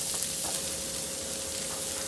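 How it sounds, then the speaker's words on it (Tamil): Small onions, tomato and chilli saute in oil with a steady, even sizzle that holds throughout, joined by a few faint stirring taps. "லைட்டாக வதக்கி எடுத்துக்கணும்"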